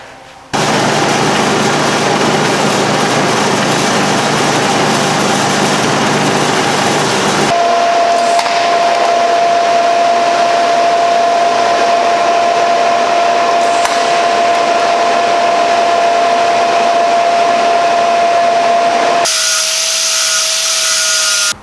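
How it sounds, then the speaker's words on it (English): A bandsaw cuts through metal handrail tubing with a loud, steady whine and grinding roar that runs nearly unbroken for about twenty seconds at close range, shifting tone partway through and changing again just before it ends. "And we're going to bandsaw it right there."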